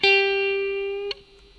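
A clean electric guitar lick sustains a single bright note for about a second, then slides down and settles onto a quieter, slightly bent note that rings out alone with a touch of effect on the tone.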